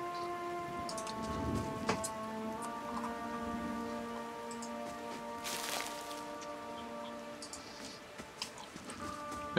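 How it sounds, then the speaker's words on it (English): A small waterfall in the fantasy role-playing game Pillars of Eternity, rendered as a steady, even rush of falling water with faint scattered ticks and sparse musical tones over it. "Looks like maybe a waterfall or something."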